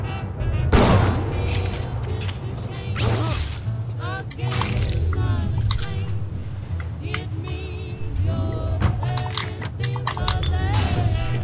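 Bioshock video game gunfire rings out in repeated shots and short bursts alongside impact noises, with a player talking over the game audio.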